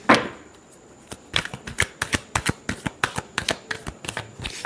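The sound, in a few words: shuffling tarot cards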